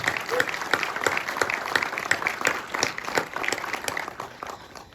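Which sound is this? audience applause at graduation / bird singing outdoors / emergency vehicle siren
audience applause at graduation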